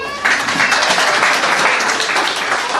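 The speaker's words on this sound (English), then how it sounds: "Clap for him." Dense, loud applause and clapping from a church congregation during a Sunday sermon, continuous and close for the whole stretch with no talk.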